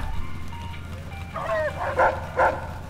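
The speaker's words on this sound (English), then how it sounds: "Here's his Rex, the robo dog." A robotic dog barks a few times in a casino-town setting, short yipping barks arriving near the end over a low background hum and faint distant voices.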